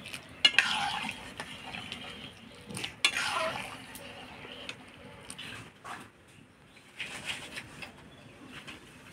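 Vegetables for dal tipped into a hot frying pan with green chillies and stirred: sizzling and scraping of a spatula against the pan in uneven bursts, with quieter frying between strokes and no talking.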